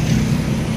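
Van passing on a busy road in Taytay, Danao City in the evening, a short low rumble of the vehicle going by amid traffic.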